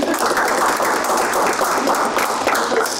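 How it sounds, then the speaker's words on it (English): A workshop audience applauds the organizing team, a dense, steady, fairly loud wash of many hands clapping close together with no pauses for the full few seconds. "raise your hands so we can applaud you and thank you for your hard work"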